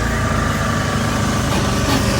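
Two generators running on a fishing boat, a steady loud mechanical drone with a low rumbling hum and dense, unbroken engine noise throughout.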